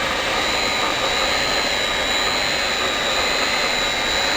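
A heat gun on a PVC welding machine blows hard with a steady, loud, broadband rushing hiss and a faint high tone, unchanging throughout with no talking.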